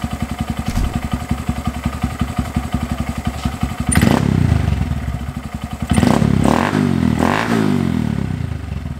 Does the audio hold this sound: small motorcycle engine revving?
yes